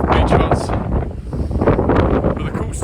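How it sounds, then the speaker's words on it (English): Strong gusting wind buffets the microphone on the clifftop at Hengistbury Head by the sea, a loud rumbling roar that rises and falls throughout, with a voice partly buried beneath it. "Again, I apologise for the wind."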